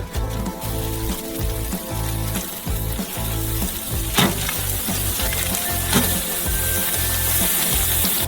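Three burger patties sizzle steadily on a grill, a dense crackling fry with a few sharper pops, heard close and continuous over a rhythmic musical background.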